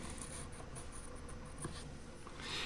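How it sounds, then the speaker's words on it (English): A pencil scratches back and forth across a wooden board for a puzzle rocker, a soft, steady scraping close by with faint background hum and no talking. "Kind of moving the pencil back and forth in order to get a nice dark mark"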